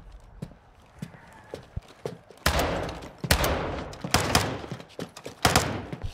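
Sharp rapid gunshot bursts crack in quick volleys after a quieter stretch of scattered thumps and steps, loud and close, in the video game Call of Duty: Modern Warfare 2.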